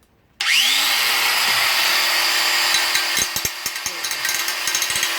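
A wobbly Certa angle grinder spins up with a rising whine, then grinds against a metal detecting pick in uneven scraping bursts, loud and close, with no talk.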